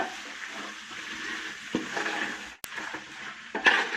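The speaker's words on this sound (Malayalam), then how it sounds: "ക്യാരറ്റ് അതിലേക്ക് നമുക്ക് ഇട്ട് കൊടുക്കാം നന്നായിട്ട് ഒന്ന് ഇളക്കിയെടുക്കുക" Grated or chopped carrots being stirred into green chillies frying in oil for a carrot-mango pickle: a steady close sizzle with a few scraping stirs and one sharp clack, no talking.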